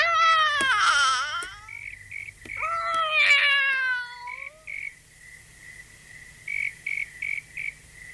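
A cartoon cat meows twice, long drawn-out cries close by, followed by a few short chirping sounds in quick succession.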